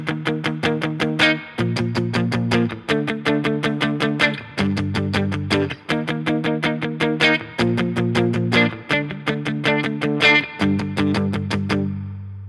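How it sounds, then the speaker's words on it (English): Palm-muted electric guitar chords with distortion, played as short choppy strums in a steady rhythm that shifts through several chord changes, loud and close with no voice over them. "you're going to play these chords while palm muting, and all put together it sounds like this"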